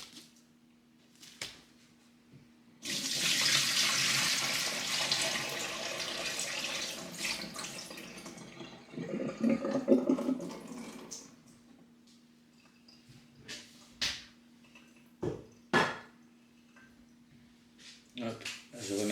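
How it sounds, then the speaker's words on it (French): Water runs from a tap into a kitchen sink, a steady rushing stream lasting several seconds that ends with a few clinks and handling noises nearby. "Hop, je remets de l'eau pour l'autre."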